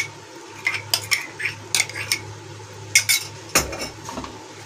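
A spoon works ghee into modak dough in a metal bowl, making a series of irregular clinks and scrapes against the vessel. They are close and distinct over a quiet background, with no talking.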